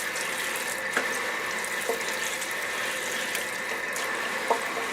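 Escarole rinsing in a strainer under a running tap: a steady close hiss of flowing water with a few faint clicks and knocks of the leaves and strainer.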